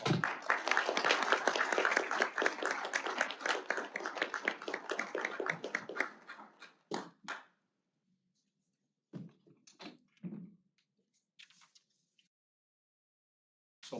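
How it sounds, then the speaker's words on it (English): Loud applause from a crowd at a homelessness commission meeting during a proclamation presentation, dense clapping for about six seconds that fades into scattered claps and brief murmurs, then quiet. "Let's give him a round of applause."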